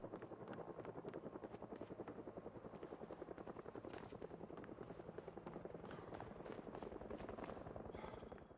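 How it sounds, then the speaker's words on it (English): Helicopter in the zombie survival game Project Zomboid, its rotor chopping in a steady rapid pulse, moderately loud and continuous as it passes overhead, with no talk. "Ah, shit, helicopter."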